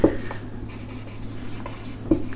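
Chalk or marker strokes on a board during a physics lesson, a sharp tap at the start and another near the end with soft scratching between, close and alone.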